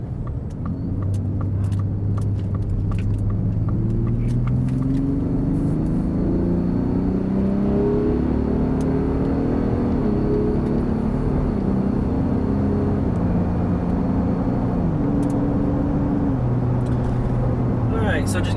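A 2022 Ford F150 Raptor pickup truck drives in stop-and-go traffic. Its engine rumbles and its rising tones shift as it speeds up and slows down, and faint ticking and clicks from the cabin sound over the steady road noise.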